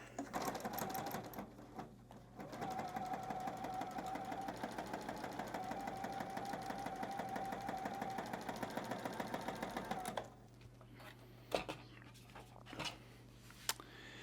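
A sewing machine runs steadily for about ten seconds, stitching a straight line through quilting cotton, its rapid needle chatter even and close, then stops, leaving a few faint handling clicks.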